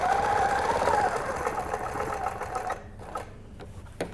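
A sewing machine runs in a fast steady whir while stitching a quilt along a template ruler, then slows and stops, leaving a few soft clicks and taps close by.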